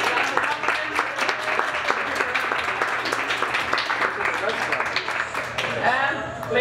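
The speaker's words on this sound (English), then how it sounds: "Everyone, give a great applause." Audience applause at a gathering, a dense run of clapping from many hands lasting several seconds, mixed with cheering and voices in the crowd.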